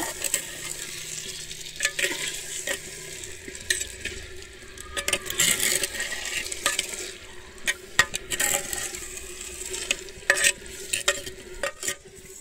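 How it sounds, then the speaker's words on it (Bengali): Chicken marinade for handi chicken is mixed by hand in a bowl, giving a run of irregular wet squelches, scrapes and clinks, close and moderately quiet. "আমি কিন্তু এবারে খুব ভালোভাবে মিশিয়ে নেব।"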